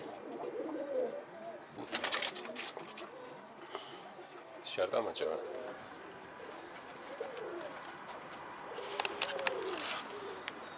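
Pigeons coo softly and repeatedly nearby while a person talks, with a few sharp rustles and knocks in between.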